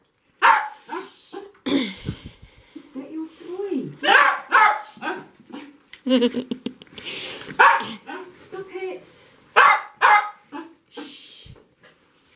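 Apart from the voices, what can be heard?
dog barking and whimpering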